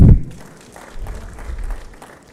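An audience in a conference hall at an East African Community economic event gives a fairly soft, steady round of applause after a speaker is introduced, with a low rumble under it.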